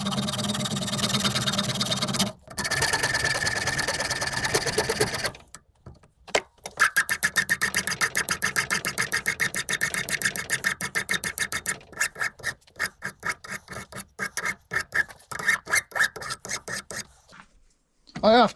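Silicon bronze 5/16 bar stock being threaded by hand with a 5/16-18 die and cutting fluid, giving a steady scraping, rasping cut with short repeated strokes and pauses, close up with no talking.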